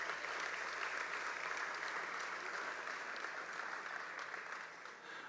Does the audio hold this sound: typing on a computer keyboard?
no